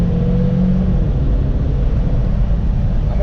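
A Saab 9-3 turbo car engine given some gas, producing a steady low rumbling drone that holds even throughout, close and fairly loud with no voices over it.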